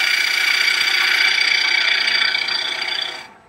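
A bowl gouge cuts a wooden bowl spinning on a lathe with a loud, close, continuous scraping hiss that holds steady, then fades and stops as the tool lifts away.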